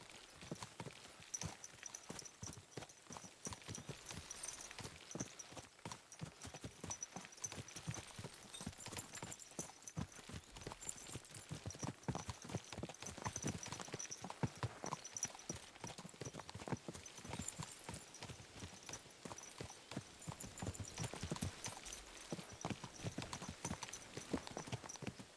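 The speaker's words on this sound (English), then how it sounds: "This is so much better with the horse." A horse trots steadily in Kingdom Come: Deliverance 2, hooves clip-clopping in a quick, even rhythm close by, continuing for the whole stretch with faint background ambience.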